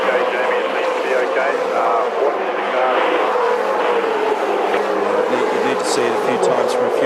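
V8 Supercars race cars from the 2007 season run on a circuit, with loud, continuous engine roar and whine under commentary as cars pass close by.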